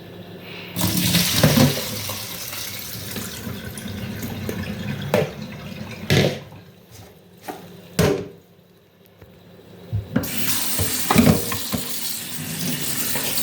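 Running tap water gushes over fish roe being rinsed, starts and stops a few times with brief splashes between, close and fairly loud, no speech.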